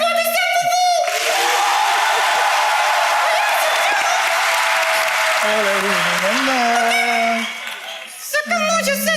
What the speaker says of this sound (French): Si c'est vrai, applaudissez pour vous!